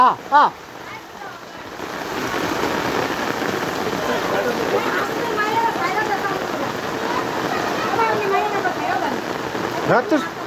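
Steady rain pouring down and pattering on surfaces, continuous and fairly loud, with brief voices near the start and end.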